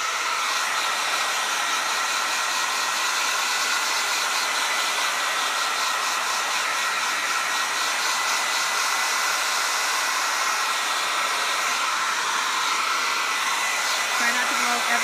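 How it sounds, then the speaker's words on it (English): A blow dryer drying chalk paste on a crafting table, a close, continuous, loud whooshing hum that holds steady from start to finish with no talking. "So I have my trusty blow dryer behind me, so I'm going to just bring that around"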